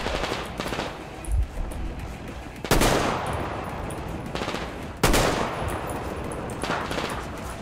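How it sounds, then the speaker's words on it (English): Loud, close automatic gunfire in the shooter game Metro Exodus rattles in sustained bursts, with sharp, heavier blasts landing midway and again later over a dense background of battle noise. "I haven't peeked yet and they're already shooting."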